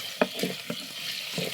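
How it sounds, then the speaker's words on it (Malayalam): Green chillies and curry leaves sizzle in a hot pan, with a few sharp crackles and stirring taps over a soft, steady frying hiss in a brief close take. "ഇനി ഒരു 2 തണ്ട് കറിവേപ്പിലയും ഇട്ട് കൊടുക്കുക."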